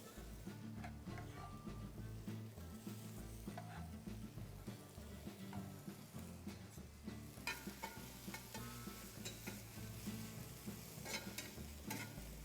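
Steak searing in a hot pan, with a continuous faint sizzle and crackle, occasional scraping and stirring, and a few sharper pops.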